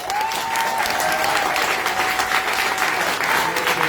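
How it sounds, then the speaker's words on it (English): A crowd at a talk claps loudly and steadily for several seconds, the applause dense and sustained with a faint tone running underneath. "a big round of applause for these lads"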